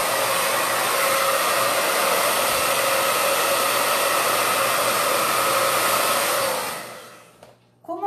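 A hair dryer blows hard and steady while drying paint on a wooden crate, a loud continuous whoosh that cuts off near the end, followed by a few faint handling clicks.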